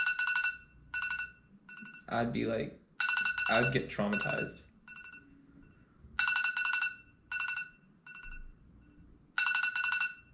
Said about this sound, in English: I just hear this alarm sound like.